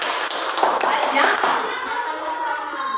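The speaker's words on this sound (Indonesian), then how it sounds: "Tepuk tangan dulu, tepuk tangan." Schoolchildren in a second-grade classroom clap their hands in a lively burst of overlapping claps, with a teacher's voice speaking over them; the clapping thins out toward the end.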